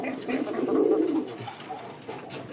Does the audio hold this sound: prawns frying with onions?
no